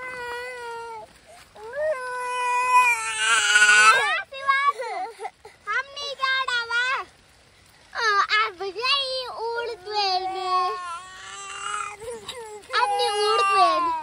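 A small child cries close by in a hillside village as rain starts, with long, high, wavering wails broken by short sobbing gasps and brief pauses.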